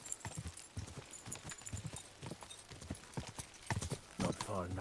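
Horse hooves clip-clop in Kingdom Come: Deliverance II, an irregular run of sharp knocks that mixes with the game's ambience and a voice speaking over it, ending in a brief whinny.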